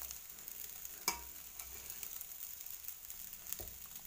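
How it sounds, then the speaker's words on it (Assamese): Joha rice frying in ghee in a pan, a faint continuous sizzle broken by a couple of sharp clicks of a spoon against the pan, close but quiet, no talking. "এয়া চাওক চাউলখিনি মোৰ ভজা হৈ আহিছে"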